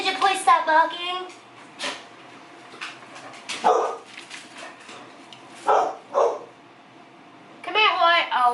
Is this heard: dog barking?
yes